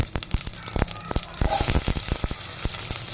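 Onion dropped into hot oil already holding popped mustard seeds and cumin for tempering, ready for a Malnad-style ripe mango sambar, sets off a sudden loud sizzle that swells into steady close crackling frying.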